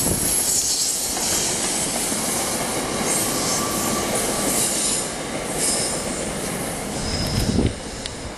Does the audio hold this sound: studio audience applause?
no